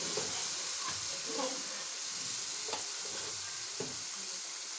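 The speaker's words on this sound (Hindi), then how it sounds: "आलू और बीफ का गोश्त इसमें ऐड हो रहा है।" Potatoes and beef fry in a pot with steady, close sizzling and hissing, broken by a few soft stirring scrapes and clinks throughout.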